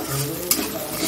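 Potatoes drop into a hot pan already seasoned with salt and sugar, giving a brief burst of sizzle followed by steady frying hiss and stirring scrapes, close and moderately loud.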